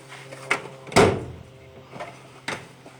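A metal tool chest drawer in a welding and small engine repair workshop opens with a sharp sliding clunk, followed by softer knocks and a second quieter thump, close and without speech.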